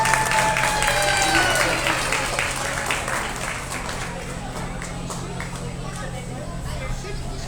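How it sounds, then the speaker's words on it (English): Steady applause from an audience at an alpaca costume show, dense clapping that fades gradually over several seconds, with crowd chatter and a faint announcer voice at the start. "can we please have one more round of applause for these exhibitors?"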